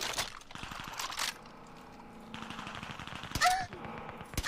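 Several bursts of sharp gunshots in Call of Duty: Warzone, including rapid automatic fire, loud and close, separated by brief quieter gaps.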